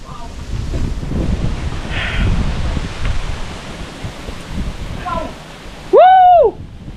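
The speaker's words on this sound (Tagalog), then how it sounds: "Yan ang hangin." Wind gusts outdoors at a campsite during a barbecue, a rough, fluctuating rush that swells and fades before a short, high whooping voice cuts in near the end.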